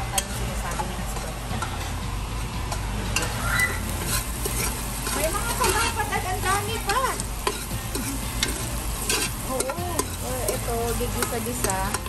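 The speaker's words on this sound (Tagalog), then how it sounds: "Gisa-gisa." Beef sautés in a pan, giving a continuous close sizzle with busy stirring scrapes and small clinks of the utensil against the pan.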